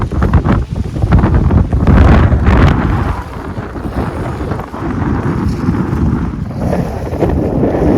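Strong wind gusts buffet the microphone beside Bor Talav lake in Bhavnagar, a loud, rumbling, continuous rush that swells and eases over several seconds.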